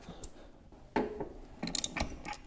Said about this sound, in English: ratcheting this on slowly, it is pushing the whole hub assembly back further.